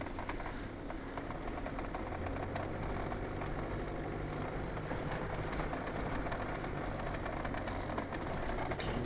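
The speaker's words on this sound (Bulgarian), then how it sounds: "Да покажем, че колата вари много хубаво" A Land Rover Discovery 1 with a 300Tdi diesel and automatic gearbox idles continuously, a steady, close rumbling drone with no speech.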